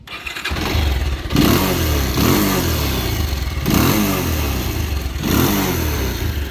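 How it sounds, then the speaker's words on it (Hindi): A Bajaj motorcycle engine starts and runs with a rough, clattering, vibrating idle, blipping the throttle every second or so, loud and close. "एक बार मैं आपको स्टार्ट करके दिखा दूँ कि क्या समस्या है इस मोटरसाइकिल के अंदर।"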